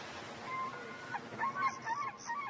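Birds on the Galapagos Islands calling, a few honking, goose-like cries that come in short irregular bursts, moderately near, over a faint, soft background hiss.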